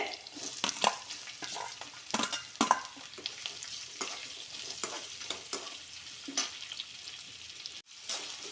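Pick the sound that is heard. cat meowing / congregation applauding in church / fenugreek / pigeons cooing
fenugreek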